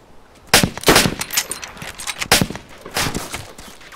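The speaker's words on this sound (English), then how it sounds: "Shots up on the hill." Gunshots from up on a hill, several sharp cracks and short bursts spread over a few seconds, loud with a ringing outdoor tail.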